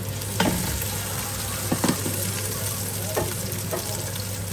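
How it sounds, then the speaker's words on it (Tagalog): Onion sautéed in a hot pan for papaitan: constant loud sizzling hiss close up, with a low steady hum beneath and a few scattered scraping strokes of a utensil. "Magigisa na tayo ng sibuyas. Hulog na natin yung sibuyas."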